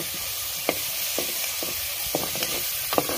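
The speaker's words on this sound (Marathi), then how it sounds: "कांदा छान आपल्याला सोनेरी कलरवर छान एकदम परतून घ्यायचा आहे" A steady sizzle of onions frying in a clay pot over a wood-fired stove, with occasional clinks and scrapes of stirring breaking through the constant hiss.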